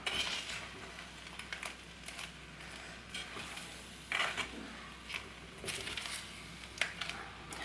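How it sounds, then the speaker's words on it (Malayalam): Quiet scraping and soft squelching as a spoon stirs through crab biryani in a metal vessel, with an occasional clink. "ഞാൻ ബാക്കി കൂടി ഇതുപോലെ ഒന്ന് മിക്സ് ചെയ്തെടുക്കുകയാണ്"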